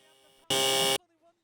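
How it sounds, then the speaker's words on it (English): A harsh, loud quiz buzzer rings once for about half a second, cutting in abruptly over a quiet background and stopping just as suddenly. "If anyone buzzes, you can buzz in at any time during the video."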